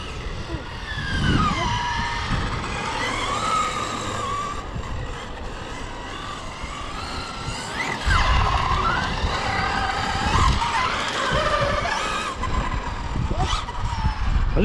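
A radio-controlled car drives around, its small motor whining and rising and falling in pitch as it speeds up and slows down, fairly loud and continuous throughout.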